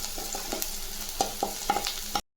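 Ingredients for tomato kuzhambu sauté in a pan with steady sizzling, punctuated by repeated scraping strokes of a spatula, close and fairly loud, stopping abruptly.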